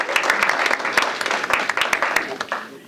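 Audience at a library historical society talk breaking into applause, a lively burst of clapping from many hands, close and bright, with a voice speaking alongside.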